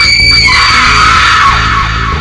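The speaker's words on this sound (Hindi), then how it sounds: "और दिव्या की आखिरी चीख वातावरण में गूंज गई" A woman's long, loud, piercing scream at the climax of a horror story, sustained for about two seconds and slowly fading, alone with no talk over it.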